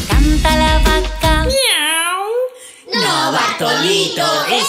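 A voice imitates a cat's meow, a drawn-out sliding mew, between bursts of lively Spanish-language children's singing and music.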